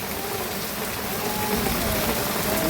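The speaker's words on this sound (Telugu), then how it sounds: "అమ్మో వర్షం చూడమ్మో" Heavy rain pours onto a thatched hut, a dense, steady close patter and hiss that swells slightly louder toward the end.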